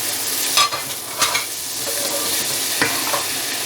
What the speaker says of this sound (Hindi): साथ ही मैं मसाले डालूँगी, ये जो मैंने स्पाइसी रखे थे इनको भी डाल देंगे और भूनेंगे।